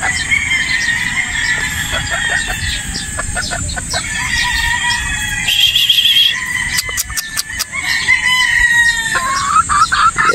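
Boston Roundhead gamefowl chickens crow and cluck close by, with repeated loud calls and sharp clucks spread across the stretch over a steady outdoor hum.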